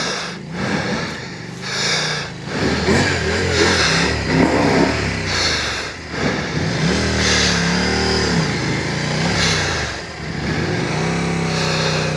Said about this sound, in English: you're not riding your own bike through there?